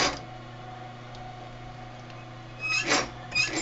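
A sewing machine back-stitches the lining gusset of a bag, a quiet steady motor hum with a couple of short bursts of stitching near the end.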